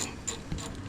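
A hand ratchet clicks in short quick strokes while undoing a 12mm brake line bracket bolt during front wheel bearing work on a 120 series Toyota Prado. The clicks are close and steady and last about a second.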